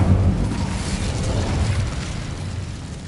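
An Incendio fire spell bursts in the wizarding game Hogwarts Legacy, a loud explosive whoosh that opens strongly and rolls on as a roaring, slowly fading rumble.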